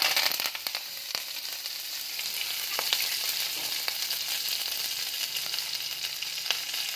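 Cumin, garlic, coriander and curry leaves frying in a pan for onion chutney, a bright continuous crackling sizzle with a few louder pops and spatters, close and alone.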